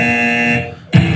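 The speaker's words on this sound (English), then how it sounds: "And we get a buzzer" A loud electronic buzzer drones steadily for about half a second, cuts out briefly, then sounds again, marking a wrestler's entrance at a comedy wrestling-style live show.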